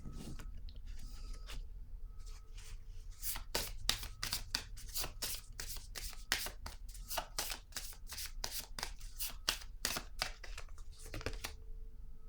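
Cards for a card reading are shuffled, handled and laid down on a surface, giving quick crisp flicks and taps in irregular bursts, quiet and close, with no talking.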